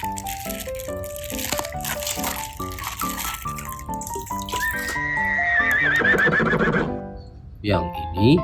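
A horse neigh sound effect, likely from a toy, rings out in a children's animal toy unboxing, rising into a long shaky whinny midway through after a bright tinkling melody.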